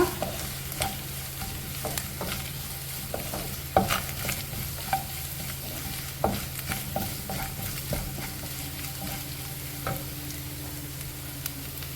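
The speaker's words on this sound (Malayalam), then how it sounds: "തേങ്ങ ചിരിയത് കുറച്ച് ഇതിനകത്തേക്ക് ഇട്ട് കൊടുക്കാം എന്നിട്ട് നല്ലപോലെ ഇളക്കുക" Grated coconut fries in a pan for a Kerala stir-fry and is stirred steadily, with a soft continuous sizzle and repeated scraping strokes close by and no talking.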